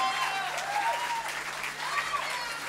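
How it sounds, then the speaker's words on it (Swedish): An audience at a live blues concert at Fasching in 2018 claps in a steady, dense wash of applause, with a few whistles over it. "En stor applåd för"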